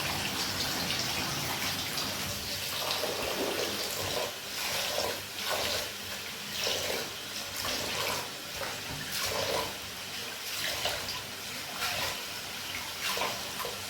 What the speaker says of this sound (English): So in the final washing of the rice actually